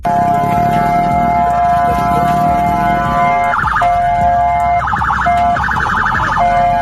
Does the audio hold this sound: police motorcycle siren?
yes